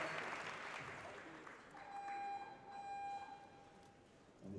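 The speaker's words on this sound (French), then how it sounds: "des applaudissements un peu plus chaleureux, un peu plus nourris, s'il vous plaît" Indoor audience applause at an archery world cup bronze match in Nîmes, a steady moderate clapping wash under an announcer's voice, with a faint electronic tone running through the middle.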